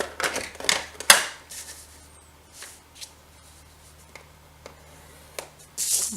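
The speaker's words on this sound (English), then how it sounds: "let's get out our scoreboard and we will score our envelope, not our envelopes, our pockets and our flip page." A scoring tool draws across a paper envelope and pockets on a scoreboard for a floral mini album, making a few close, sharp scraping strokes and light paper rustles, with a faint steady hum and quiet handling noise between them.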